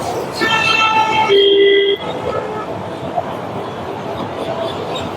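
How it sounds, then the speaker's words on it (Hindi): Metro train at Akshardham station in Delhi, a loud horn toot with sustained tonal notes over rumbling station noise that drops off after about two seconds, leaving a quieter hum with faint background voices. "ये अक्षरधाम मेट्रो स्टेशन है।"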